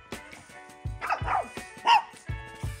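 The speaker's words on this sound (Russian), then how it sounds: "Юми, не лай на людей" A dog indoors at home barks and yips several times in short bursts, close and fairly loud, with whimpering tones between.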